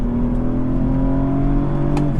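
A 2015 Audi S3 with a turbocharged 2-liter engine launches hard in sport mode during a drag race, its loud engine droning steadily with a strong low rumble and a rising harmonic whine, heard from close inside the car.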